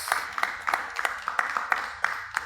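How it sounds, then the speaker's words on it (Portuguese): A church congregation claps in a steady, rhythmic beat, moderately loud and close, with the claps falling at regular intervals. "Pode aplaudir ao Senhor"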